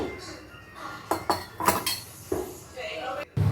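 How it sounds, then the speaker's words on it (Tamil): Steel dishes and utensils clink and clatter in a home kitchen as a little kuzhambu gravy is poured, several sharp close metallic knocks spread over a few seconds. "கொஞ்சமாக குழம்பு ஊற்றிடலாம்."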